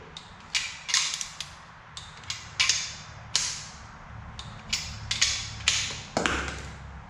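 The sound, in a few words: torque wrench tightening engine bolts to 15 foot-pounds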